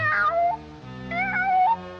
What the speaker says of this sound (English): I'm that hungry little kitty cat you just read about.